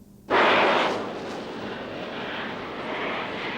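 Israeli military airplanes flying low over the Sinai in 1956, a sudden loud roaring rush of engine noise that swells in abruptly, then settles into a broad, sustained rumble as the aircraft pass overhead.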